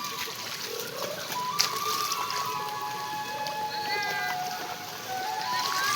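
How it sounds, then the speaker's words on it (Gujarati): Heavy rain falls on a flooded field and a waterlogged thatched hut, making a soft, continuous hiss with faint splashes and a few thin, high calls drifting through. "ખૂબ વરસાદ પડે છે મિત્રો"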